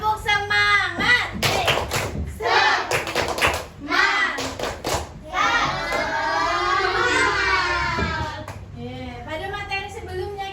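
Children in a classroom perform a rhythmic clapping chant, bursts of claps mixed with loud young voices chanting together, then a sustained shouted group call.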